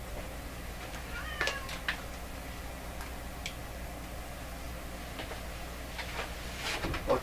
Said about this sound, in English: That's my cat Peanut calling me